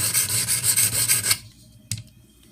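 A Benchmade 13940 knife blade is rubbed in rapid rhythmic rasping strokes across a Venev OCB sharpening stone, close and alone, then the strokes stop, leaving near silence broken by one short scrape.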